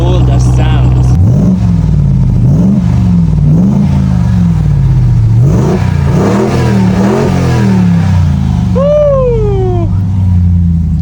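Ram 1500 TRX pickup truck exhaust barks through a series of sharp revs that rise and fall repeatedly, loud and nearby, with a voice speaking over the engine and a short high whine near the end.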